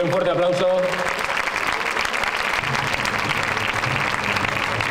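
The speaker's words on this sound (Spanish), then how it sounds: "Démosle un fuerte aplauso." Applause fills a concert hall at a festive-music concert as the audience claps for an honoree unveiling a plaque, steady and sustained throughout, with faint tonal sounds and murmuring early on.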